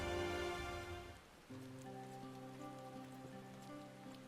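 Rain falling in the video game Final Fantasy XIV, a steady soft patter under layered game music, quiet and continuous throughout with no talking.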